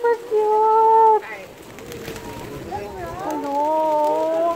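Pigeons coo in soft, warbling calls nearby at Port Pilar, mixed with a person's high, excited speech.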